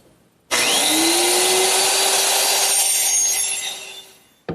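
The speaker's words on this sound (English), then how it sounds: "to trim the ends of both the seat and all the cross members, I'm just going to use my little lightweight circular saw" A small lightweight circular saw spins up and cuts through the wooden ends of a settle's seat and cross members, a loud steady whine with a rising tone that runs about four seconds before winding down.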